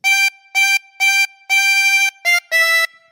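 A harmonica plays a phrase of "God Save the Queen": three short even blown notes, a longer held note, then two quick notes with a slight pitch drop, bright and reedy, close and alone.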